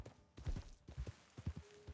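Horse hooves clip-clopping in Red Dead Online, a quick, irregular series of soft, close thuds on the ground, fairly quiet with no talk.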